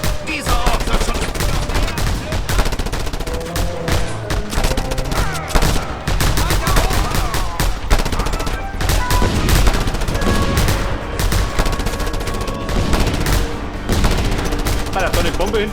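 Dense bursts of automatic gunfire and rapid shots rattle almost without pause in the open-world shooter Just Cause 2, loud and close, with voices calling out over the din.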